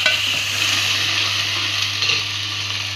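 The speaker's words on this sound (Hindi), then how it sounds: "थोड़ा सा एक मिनट के लिए थोड़ा सा भूनेंगे" A steady, close sizzle from spices being sautéed in a pan for an aloo and bhindi salan, with a faint low hum underneath and light stirring.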